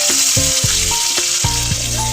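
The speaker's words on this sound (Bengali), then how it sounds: "এবার আমি কাজু বাদাম কিশমিশটা ভেজে নেবো" Cashew nuts and raisins fry in oil, a close, continuous sizzle broken by several brisk stirring scrapes against the pan.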